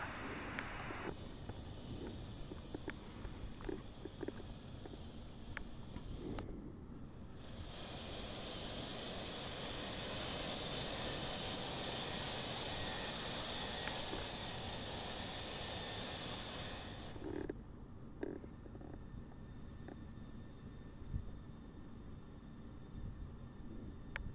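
A Mirage F1EE jet in a flight simulator, a steady engine roar with a bright, high-pitched whine that swells for about ten seconds in the middle before dropping away, leaving a low rumble.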